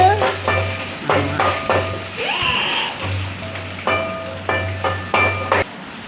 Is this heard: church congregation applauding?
no